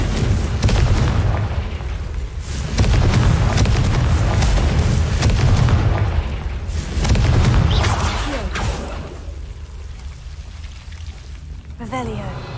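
Repeated Confringo blasting spells explode in the Hogwarts Legacy video game, giving a string of heavy, rumbling booms with crackling debris that die away toward the end, while a voice speaks over them.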